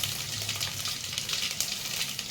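Tempering spices of fenugreek, mustard seeds, cumin, urad dal and dried red chilies fry in hot oil, a steady dense sizzle with faint crackles, close and continuous with no talk.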